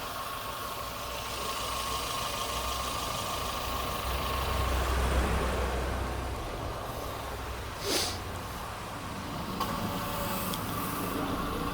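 A Renault Sandero 1.6 8V idles with the air conditioning and electrical loads switched on, a low steady hum and rumble with a slight swell midway and a brief sharper click later, no talk over it.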